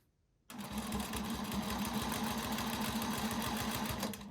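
A sewing machine stitches a flying geese quilt in one steady, fast mechanical run of rattling needle strokes that starts abruptly and continues without pause.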